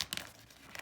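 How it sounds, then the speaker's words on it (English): Paper folded by hand into an origami box, a short crinkling rustle with two quick crisp bursts at the start and another at the end, close and quiet with nobody talking. "fold it down,"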